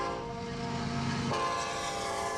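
An Amtrak train rumbles past on the railroad while its horn blows in a long sustained blast, the steady tone shifting in pitch partway through as the train goes by.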